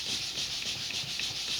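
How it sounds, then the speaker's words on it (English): A sanding block rubs in broad circles over a model rocket part, giving a continuous, close, dry hiss that swells and fades with each stroke. No one speaks. "So I've got my sanding block. I'm sanding in nice big circles"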